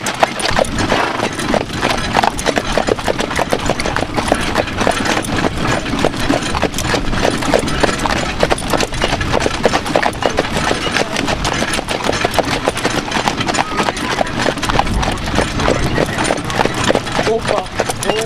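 Horses clip-clopping at a horse festival in Saint Vincent en Bresse, a dense steady run of hoof strikes close by, with people talking and calling to the animals throughout.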